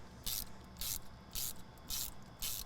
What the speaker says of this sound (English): I have a 1/2 inch drive socket just because my 1/2 inch 11's deeper and will let me tighten these all the way down